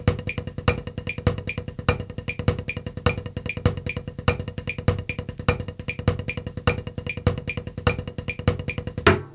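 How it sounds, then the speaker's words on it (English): Double paradiddle played on a drum with one accent per hand in 3/4 sixteenth notes, an even stream of crisp close strokes with louder accented hits recurring in a steady pattern, ending on a final hit. "So the first double paradiddle is 1 accent per hand"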